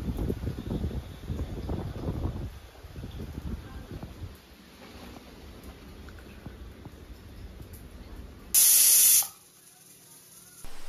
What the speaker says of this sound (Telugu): విజిల్స్ వచ్చేసాయి, 3 విజిల్స్.